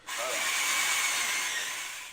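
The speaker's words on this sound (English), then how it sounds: "The sound of power tools and manual labor fill the air in the far region as work begins on the construction of a high tunnel." A power tool runs steadily through a continuous high whine during construction of a farm high tunnel in Deep South Texas, close by and loud, starting abruptly and holding for about two seconds.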